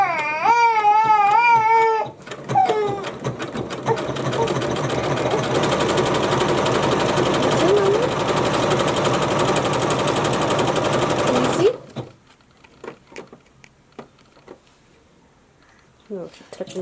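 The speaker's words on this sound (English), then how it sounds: "We're just doing a straight stitch here on the machine." Close, loud sewing machine running a straight stitch on T-shirt fabric for about ten seconds, a continuous buzzing drone; a brief voice comes before it and the machine then cuts off to near quiet.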